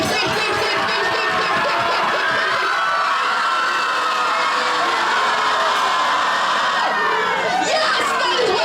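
Crowd at a live show screaming and cheering nonstop, a dense wall of high-pitched shouts and whoops that stays loud and close throughout, swelling slightly near the end.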